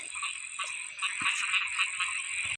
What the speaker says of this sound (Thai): อยู่ภายเฮาเสียงกบเสียงห้องเสียงเขียดสนั่นหวั่นไหว